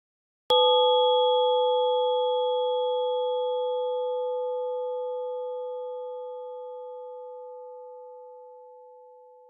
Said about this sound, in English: a quick demonstration of a max patch which basically implements this design for additive synthesis